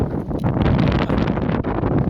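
Strong winter wind sweeps across the Kuwait desert, roaring and buffeting close to the microphone as a steady, loud rush of noise with gusty surges throughout.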